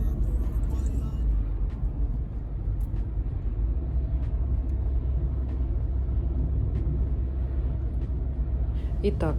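Steady low road rumble from a car driving along a highway, continuous and fairly loud throughout, with faint voices talking over it inside the vehicle.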